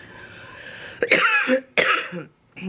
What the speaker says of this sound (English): we all cough. Some more than others.